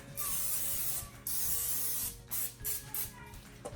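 Cooking spray hisses over muffin tins being greased, first in two long steady blasts and then in several shorter spurts, all close and fairly loud.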